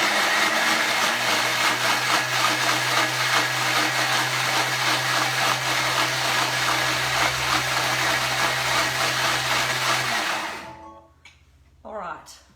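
A Thermomix whirs loudly at speed 9 while blending curry paste, a steady high-speed grinding drone for about ten seconds that then cuts off and spins down, followed by brief handling sounds.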